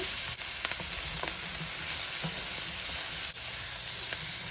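Zucchini and summer squash with herbs fry in oil and butter in a pan, giving a steady, close sizzle with faint occasional clicks and no voices.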